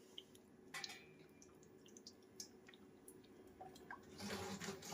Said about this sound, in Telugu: బాండి పెట్టుకుని ఆయిల్ పోసుకోవాలండి